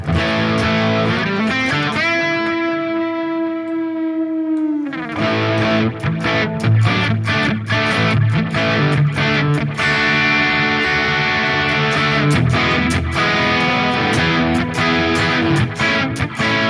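Electric guitar playing a crunchy rhythm tone through a Sonicake Matribox 2 Pro multi-effects unit: a sustained distorted chord rings and fades, then tight, chugging strummed chords with rhythmic palm-muted hits play continuously and loudly, with no talking.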